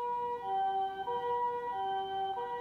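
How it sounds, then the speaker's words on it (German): An ambulance siren on a Japanese emergency vehicle wails continuously and fairly loud, its two-tone pitch alternating in a slow, regular cycle. "Vorsicht, wir schalten gleich die Sirene ein,"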